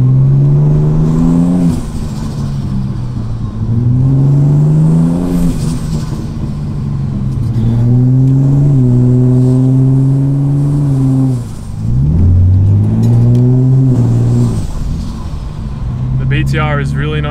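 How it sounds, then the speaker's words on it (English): A Ford Falcon EF with a Barra engine and a struggling BTR automatic gearbox revs loudly and close up, pulling through repeated climbs in pitch broken by gear changes, with one harsh dip midway. "BTR is really not happy going from second to third."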